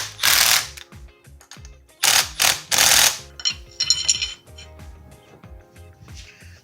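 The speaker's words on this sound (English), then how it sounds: "let's see if we can tighten these down to 44 foot-pounds" Bolts on a Kawasaki KFX450R engine are torqued to 44 foot-pounds, loud ratchet clicking in several short bursts separated by pauses, close and without talk.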